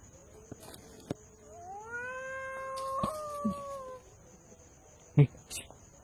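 A cat meows in a forest, one drawn-out, rising-and-falling wail in the middle, with a few sharp knocks and clicks before and after against a quiet background hum.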